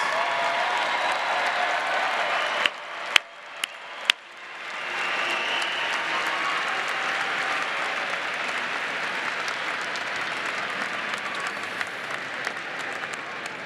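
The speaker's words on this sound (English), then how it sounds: "How about one more round of applause for our outstanding graduates?" A round of applause for graduates at Ball State University's fall 2017 commencement, a large hall of clapping that holds steady, with a few sharp knocks near the start before the ovation swells again.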